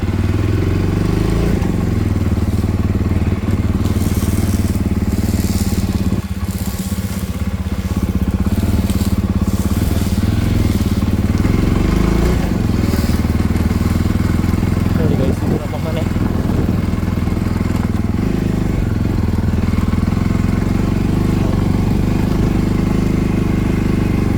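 A Jawa Bobber 42 motorcycle engine runs steadily and loudly throughout, a continuous low rumble with some clattering, as if riding along.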